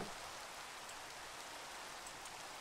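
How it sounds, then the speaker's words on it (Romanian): Steady rain falls on a mountainside around a newly finished house, making a continuous, even hiss of drops with no breaks and no voices. "Și aici plouă."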